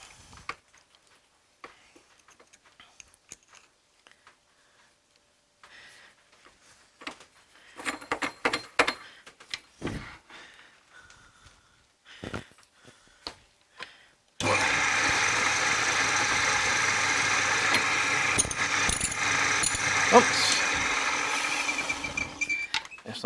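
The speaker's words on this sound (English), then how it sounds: "now I'm going to follow that through with a 1/4 inch drill bit" An old lathe's motor hums steadily after an uneven, clattery start with scattered knocks, then settles into a loud continuous whine of drilling metal with a quarter-inch drill bit, alone.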